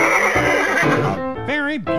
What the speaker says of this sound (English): Her horse needs shoes.